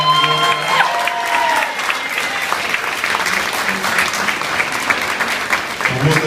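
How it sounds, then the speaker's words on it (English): Applause from a crowd at a political endorsement event for actress Eva Longoria, dense continuous clapping with a few cheers, loud and sustained, with a voice speaking over the start. "Can we give another round of applause to the amazing Eva Longoria?"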